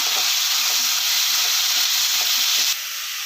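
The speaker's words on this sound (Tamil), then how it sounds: "இப்போ வந்து நம்ம இந்த புரோக்கோலியை சேர்த்துக்கலாம் சேர்த்துட்டு நல்லா வதக்கி விட்டுறலாம்" Steady, loud sizzling and hissing of broccoli stir-frying in a hot pan, with faint scraping under the continuous crackle.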